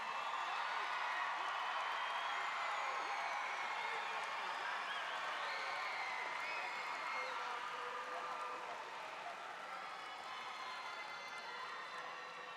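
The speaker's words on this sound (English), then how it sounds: "can we give a round of applause real quick for our graduates?" Faint, distant applause and crowd murmur rise from an arena audience honoring high school graduates, a soft steady wash with scattered voices, gradually tapering.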